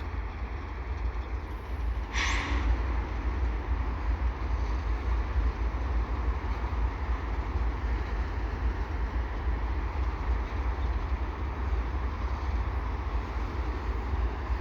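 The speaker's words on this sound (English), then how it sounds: "We got a crawling freight train here." A westbound CN freight train crawls slowly along the Turcot holding tracks, a low, steady rumble of wheels and cars rolling on rails throughout, with one short high squeal near the start.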